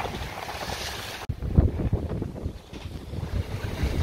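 Strong wind roars across a sailing boat on the open sea off Estonia's coast in winds around 10-11 metres per second, with waves up to about two metres slapping and rushing against the hull in irregular surges, close and loud.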